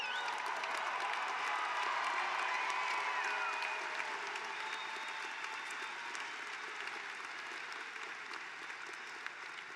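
Commencement crowd in a large hall applauds the graduates, a dense, sustained wash of clapping with scattered cheers that holds steady and tapers slightly toward the end.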